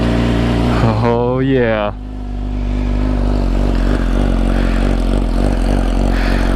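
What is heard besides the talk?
sport motorcycle engine cold start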